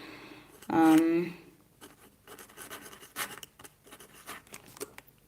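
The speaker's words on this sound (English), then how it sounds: "it does sound very scratchy, so I don't know how it's going to work, because it's really, really resisting the paper" A pen scratches and drags across paper as it writes, a rough, resisting stroke texture in steady irregular bursts, with a person talking briefly near the start.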